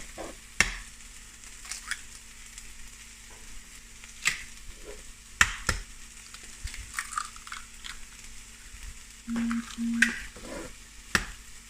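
Flatbreads cooking in a pan give a quiet, steady sizzle, broken by a few sharp clicks and scrapes and a short low hum near the end, with no voices.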